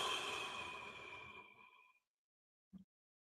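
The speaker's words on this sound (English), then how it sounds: "and then breathe out." A slow, long exhale during guided meditation, a soft breathy sigh fading out over about two seconds, followed by silence and one brief faint puff near the end.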